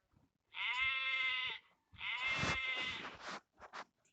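A sheep bleats in two long, wavering cries close by, followed by a couple of brief, choppy bleats, with no other sound around them.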